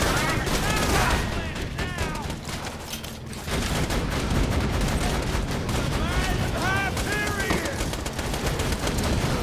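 Sustained gunfire rattles in a Borderlands 2 firefight, with rapid bursts and ricochet whines almost without pause and a short lull near the middle, while people talk over the shooting.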